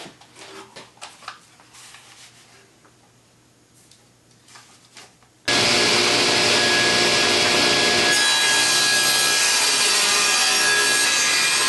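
Black oak cutoffs being sawn into quarter-inch pieces on a power saw: after about five seconds of quiet handling and light rubbing, a loud, steady, close-up roar with a high whine starts abruptly and runs to the end, with no talking.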